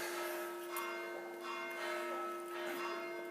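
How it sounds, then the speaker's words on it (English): Church bells ring faintly in the distance, a steady humming toll with soft repeated strikes, heard alone with nobody speaking. "The bells!"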